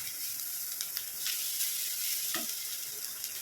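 Masala with grated coconut for sardine pollichathu sizzles steadily in a hot pan while a spoon stirs and scrapes through it, with no talking.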